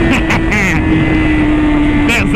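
A BMW S1000 motorcycle engine roars steadily at high revs while riding, loud and close with strong wind rush, and a voice briefly cuts in over it.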